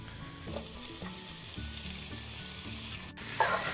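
Onion added to golden-browned potatoes sizzling and frying in a pan, a steady close crackle with occasional stirring clinks.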